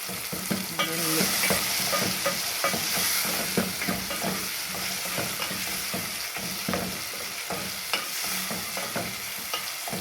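Smashed tomatoes frying in a pan, stirred with repeated scraping and tapping strokes of a utensil over a soft continuous sizzle, close and moderately quiet.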